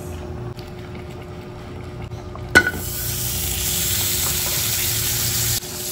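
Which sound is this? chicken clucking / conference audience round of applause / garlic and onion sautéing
garlic and onion sautéing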